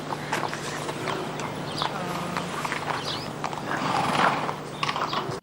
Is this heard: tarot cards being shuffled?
no